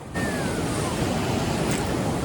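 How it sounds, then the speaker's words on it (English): Ocean waves on a rising tide along a coastline, a steady loud wash of surf with wind buffeting the microphone throughout. "Tide is coming up"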